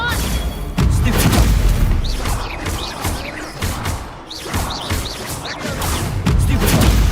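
Booming fire-spell blasts in a Hogwarts Legacy video game battle, several loud thuds and crashes going off in quick succession amid a dense, continuous din of game effects.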